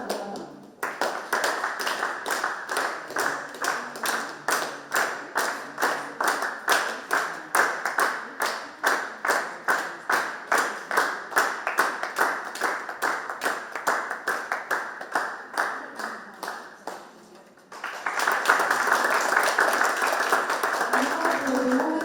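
Audience applause at a university speech competition, a dense crowd clapping steadily with rhythmic peaks that fades briefly and then swells back in full.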